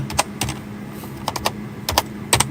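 Fingers type on a computer keyboard nearby in quick clusters of crisp clicks separated by short pauses, with a low steady hum underneath and no talking.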